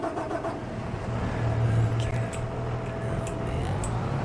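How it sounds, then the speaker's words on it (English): A vehicle engine starting in Farming Simulator 22, a low cranking rumble catching into a steady idle hum, with light clicks above it. "Start the engine."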